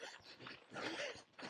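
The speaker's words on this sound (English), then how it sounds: "2 more dogs." Faint dog whimpers and yips, a couple of short bursts heard from a little distance, come from dogs passed along a parkrun course in a park.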